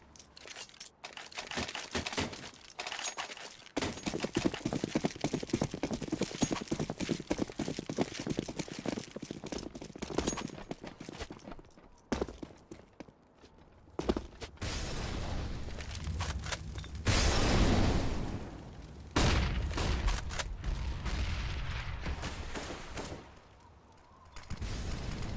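Pistol gunfire in Counter-Strike on the map Nuke during a competitive match: dense bursts of shots and impacts keep overlapping throughout, loud and busy, with a short lull near the end.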